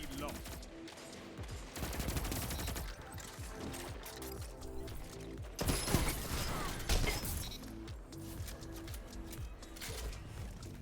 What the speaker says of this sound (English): Random rapid fire shotgun.